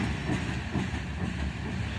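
The tail end of a slow freight train rolling past, a steady rumble with soft rhythmic wheel clacks.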